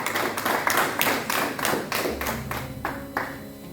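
A church congregation claps in unison, a series of strong rhythmic claps roughly three to four per second that gradually thin out, with a low hum beneath near the end.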